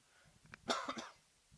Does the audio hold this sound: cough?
yes